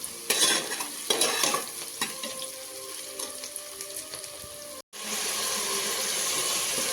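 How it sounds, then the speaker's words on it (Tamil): Onions frying golden in oil for mutton biryani, stirred with a few loud scraping clatters early on, then a steady close sizzle that continues after a brief dropout. "பிரியாணிக்கு ஹைலைட்டே என்ன அப்படின்னா வெங்காயம் நல்லா பொன்னிறமாக வறுபடணும்"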